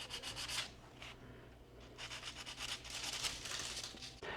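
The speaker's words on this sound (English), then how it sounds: "take a little piece of sandpaper and just kind of sand off and make it kind of have a little bit of a distressed look" Sandpaper rubbed by hand over a small thrifted wooden piece to give it a distressed finish, a close, steady scratchy rasp in repeated strokes with brief pauses between passes.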